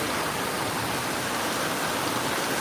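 Steady, dense roar of heavy rain falling outdoors, a continuous even wash of sound with no voices over it.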